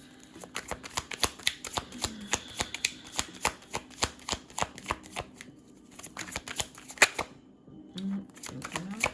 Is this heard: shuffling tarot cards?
yes